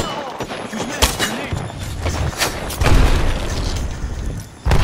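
Gunfire crackles in a video game shootout, with several sharp loud shots and booms spaced unevenly over a busy rumble while players talk.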